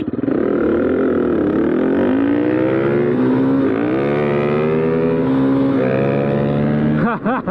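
A Suzuki DR350 dual sport motorcycle in a drag race, its single-cylinder engine revving loud and close in rising, falling sweeps that climb sharply through the gears before a quick drop at the end.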